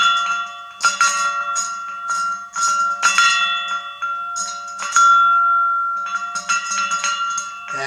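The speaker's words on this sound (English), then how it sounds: "that's a wind chime." A homemade welded metal triangle wind chime rings repeatedly outdoors, bright metallic strikes with long sustained overtones overlapping in an irregular rhythm, loud and close.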